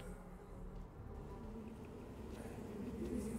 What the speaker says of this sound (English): What's up with the bees?